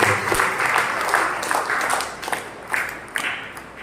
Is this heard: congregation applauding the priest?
yes